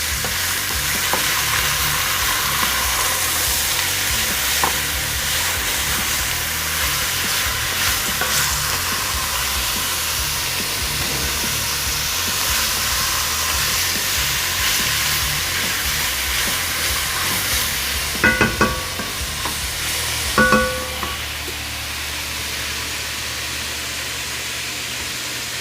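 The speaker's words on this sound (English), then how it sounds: "I cubed up. I'm gonna get that in now. Let's give that a little stir." Cubed tri-tip beef sizzles loudly and steadily in a pot for chili, with an unbroken frying hiss throughout. A few scraping stirs come through near the end, and no one speaks.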